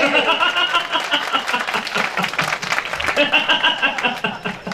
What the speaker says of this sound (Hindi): सारे लोग ताली बजाओ